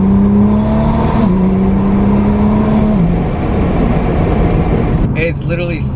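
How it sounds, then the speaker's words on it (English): A Nissan GT-R R35 with a Fi exhaust accelerates hard with its exhaust valves closed. It gives a loud, muffled engine drone that steps up in pitch, then a brief hissy whoosh near the end. "now we're gonna do a pull, but the valves are gonna be closed"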